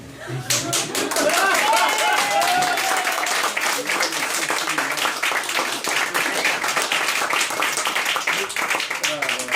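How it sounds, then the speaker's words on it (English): Audience applause following a poetry reading at a literary event, swelling quickly into dense, sustained clapping with individual claps audible, with voices briefly heard among the clapping. "That applause may have actually saved me from some serious emotional trauma."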